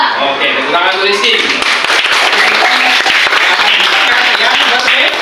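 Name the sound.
applause in a classroom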